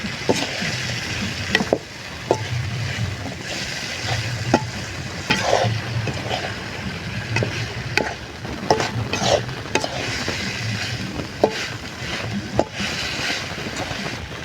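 Pepper chicken gravy sizzles and fries in a pan on a village cooking fire while it is stirred, a continuous close crackling hiss broken by regular scraping knocks of the ladle against the pan.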